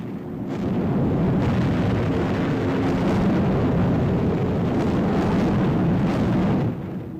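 A wartime aerial bombing raid over Germany, with RAF bombers dropping explosives on an industrial city, comes through as a dense, continuous roar of distant blasts and aircraft drone, building to a sustained rumble before easing off at the end.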